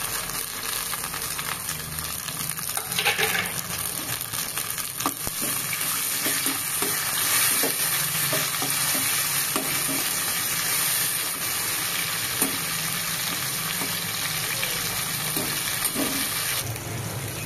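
Hot oil frying in a pan for chicken gongura, a continuous close sizzle with occasional scrapes of stirring and faint bubbling, no voices.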